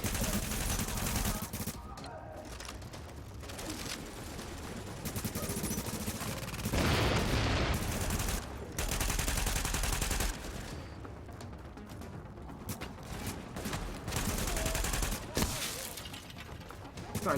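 Rapid bursts of automatic gunfire from a deployed turret in the shooter game The Division, loud and nearly continuous, with crashes and impacts mixed in and a voice talking now and then.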